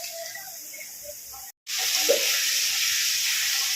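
Onions sizzle steadily in hot oil in a pan, a continuous close frying hiss broken by one brief gap, with no talking.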